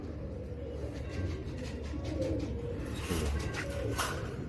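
Pigeons kept by a breeder coo softly and steadily in a quiet loft, a low continuous murmur with faint distant chirps, no voices.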